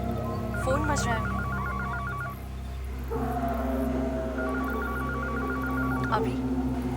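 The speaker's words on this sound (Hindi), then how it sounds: "तुम्हारा फोन बज रहा है।" A phone rings in two bursts of warbling electronic trills, steady and moderately loud beneath a murmuring background, with speech-like sounds around it.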